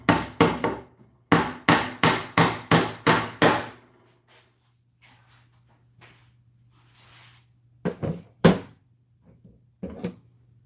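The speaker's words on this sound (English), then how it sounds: "I've got a Klein hammer." A Klein hammer strikes in quick rhythmic bursts of sharp, loud blows close by, a run of about nine hits, then a quiet stretch before a few more scattered strikes toward the end.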